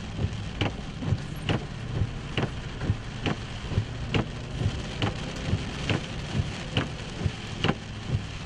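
Heavy rain pounds a vehicle during a tornado storm chase in Kansas, a steady loud hiss with regular rhythmic thumps, likely wipers, beating about every second.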